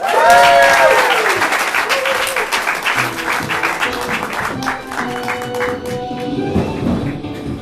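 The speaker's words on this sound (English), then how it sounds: "Clap your hands because when the lights come up, local on the 8s." Studio audience applause at a live morning television weather segment, a dense steady wash of clapping that starts loud and carries on throughout, with faint talk and tapping mixed in.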